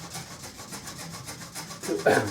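A bass guitar body is sanded with abrasive pads on a cork block, producing quick repeated rasping strokes close by that grow rougher and louder near the end.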